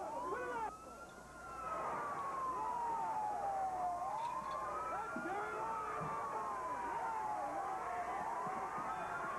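An ambulance siren wails in long rising and falling sweeps amid a noisy crowd at a wrestling event, loud and continuous with chatter beneath.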